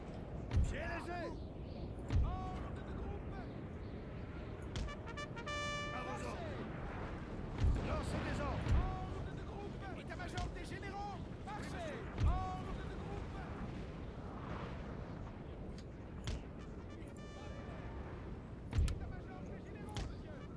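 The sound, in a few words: cannon fire in video game Napoleon: Total War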